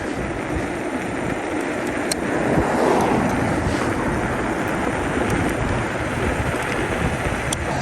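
Riding a DYU D3F 14-inch electric folding bike fast downhill, strong wind buffets the microphone in a constant loud roar that rises slightly midway, with no talk.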